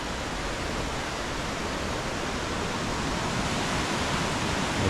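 River rapids at Bulls Bridge rush in a dense, steady broadband roar that holds constant throughout, with no voices.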